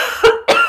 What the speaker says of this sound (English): I just have to cough.